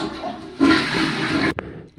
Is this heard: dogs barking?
no